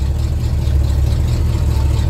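A 1979 Chevrolet Scottsdale truck engine with a carburetor problem runs in a steady, rumbling low idle, close and loud, with no voices over it.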